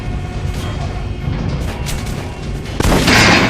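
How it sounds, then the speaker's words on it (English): Gunfire aimed at a training dummy on a shooting range in the video game Metro Last Light: a few muffled shots over a low ambient rumble, ending in a loud, sharp burst of noise. "Try shooting for the center of the regular dummy's chest"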